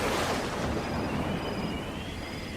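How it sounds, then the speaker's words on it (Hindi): Steady wind blowing outside on a stormy night, a continuous broadband rush with faint high whistling tones drifting through, loud and unbroken with no voices. "बाहर अभी भी हवा चल रही है।"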